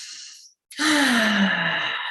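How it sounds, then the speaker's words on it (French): A long, loud exhale of breath follows a short inhale and a brief pause, close and alone, during a guided energy meditation. "inspirez, expirez"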